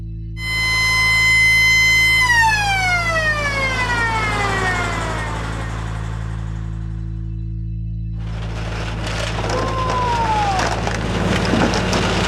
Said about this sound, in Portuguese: O barco trabalha à base de sirenes.